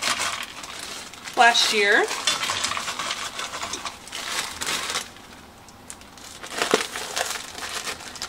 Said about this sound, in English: And then I'm going to add some garden green peppers. These I just cut up